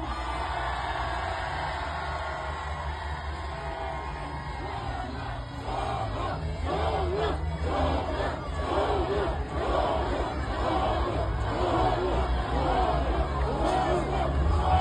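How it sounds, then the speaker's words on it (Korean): A large crowd at a political rally for Cho Kuk of the Rebuilding Korea Party roars and cheers continuously, a dense sustained wall of shouting and babble that swells slightly midway. "조국 대표께 큰 박수와 함성 부탁드립니다."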